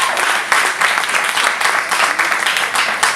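A crowd at an industry networking event applauds the night's performers, loud dense clapping that carries evenly from start to finish with no voices over it.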